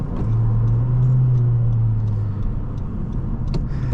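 A 2018 Honda Civic Si engine under turbo boost at around 2,500 RPM while driving, heard from inside the car as a steady, loud, low droning hum with a constant tonal whine.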